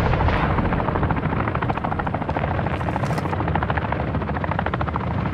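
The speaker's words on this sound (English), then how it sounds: "Helo is down!" A helicopter going down in the video game Call of Duty: Modern Warfare II produces a loud, continuous rotor thrum with a dense, rumbling combat roar layered underneath.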